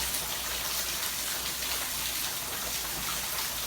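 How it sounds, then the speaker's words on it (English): Steady heavy rain pours during Hurricane Irma at Walt Disney World, a dense, continuous wash of falling water with flooding and little wind, loud and unbroken throughout with no talk. "Just rain."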